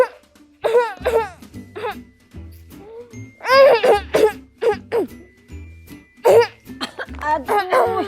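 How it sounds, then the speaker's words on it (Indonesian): A child coughs repeatedly in short harsh bursts, close up and loud, mixed with voiced, speech-like sounds and a faint tinkling in the background. "Kenapa batuk-batuk gini"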